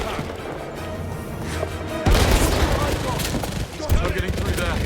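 Sniper and other gunfire in the video game 007 First Light, set in Vietnam: loud sustained shooting and blasts, with a heavy burst around the middle and another sharp hit near the end, over a dense battle din.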